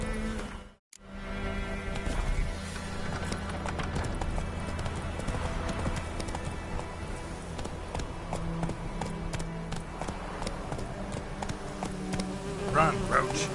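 In The Witcher 3, Geralt's horse Roach gallops with a fast, steady clip-clop of hooves close up, over a constant background bed of game ambience, with a brief drop to silence near the start.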